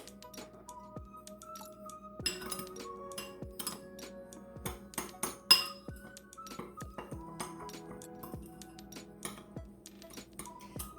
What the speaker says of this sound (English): We want to mix up the sugar, cinnamon, and walnuts really well.